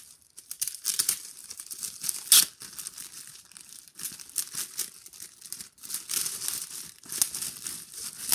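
Plastic wrapping and cardboard stiffener being pulled off a Blackpool versus Leyton Orient League Two football programme, with close, steady crinkling and tearing bursts throughout and one sharp rip partway through.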